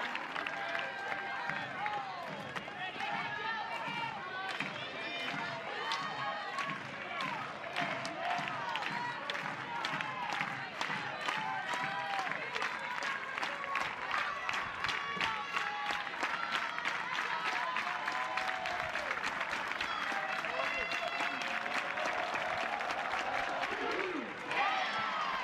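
A stadium crowd applauds and cheers steadily at an NCAA softball game between Oklahoma and Missouri, a dense, continuous wash of clapping with a commentator talking over it.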